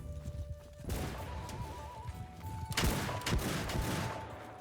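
Gunfire in the medieval battle game Bannerlord cutting riders off their horses, a volley of sharp cracks and bangs over busy battle noise, with a few louder shots standing out.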